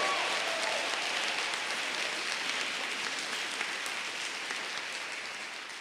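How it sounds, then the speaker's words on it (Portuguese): Audience applauding in a church gathering, a dense, steady wash of clapping that fills the whole stretch at even loudness and tapers slightly at the end. "Pode aplaudir São Rafael"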